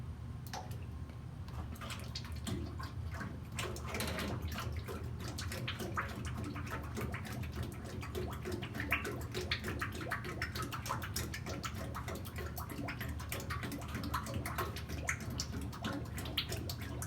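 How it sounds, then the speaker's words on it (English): Hydraulic fluid trickles and splashes steadily into the reservoir of a CNC hydraulic press brake, a soft continuous pour with faint drips, close by and quiet. "So let's see if we can get some fluid dumped in here."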